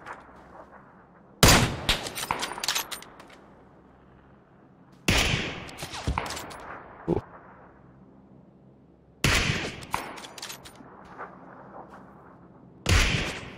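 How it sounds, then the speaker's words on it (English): Gunfire in PUBG: Battlegrounds, with four sharp, loud bursts of shots spaced a few seconds apart, each fading into an echoing tail over quiet background. "Same person I'm shooting at."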